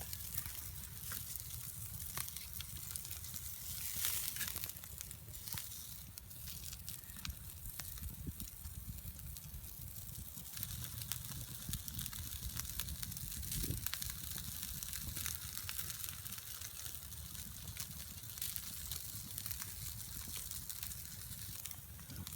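Bacon beef burgers sizzle on a hot rock over a winter campfire, a faint steady crackle and hiss with occasional pops, continuous and quiet throughout.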